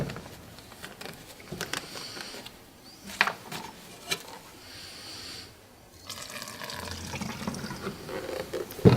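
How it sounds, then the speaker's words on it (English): Dry fabric cleaner, a solvent blend, poured from a bottle into a trigger sprayer, making an uneven gurgling trickle with brief splashes and pauses, close by and with no talking. "we're just going to put some into our trigger sprayer"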